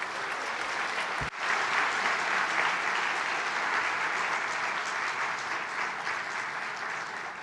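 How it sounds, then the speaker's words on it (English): An indoor audience at a talk claps steadily to welcome the next speaker, a dense, continuous wash of applause that runs the whole time with a brief thump near the start. "I would like to give a great round of applause to our following speaker, Angus Winchester"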